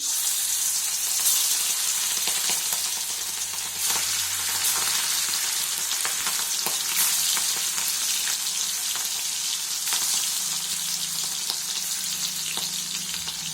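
Prawns fry in a hot pan with a dense, steady crackling sizzle that stays close and loud throughout, with scattered sharper pops and no voices.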